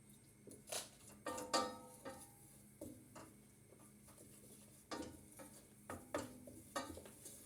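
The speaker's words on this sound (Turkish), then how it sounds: "Ve unumuzu kavuruyoruz" Flour toasting in a pan for tomato soup sizzles softly while a utensil scrapes and stirs it, producing irregular scraping strokes and light clinks against the pan, quiet and close with no talking.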